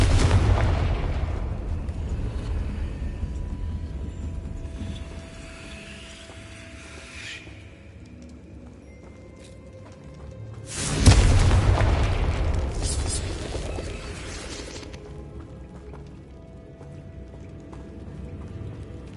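A Confringo fire spell detonates in Hogwarts Legacy with a heavy booming blast and a hissing burst about midway through. A lower rumble and scattered game effects surround it.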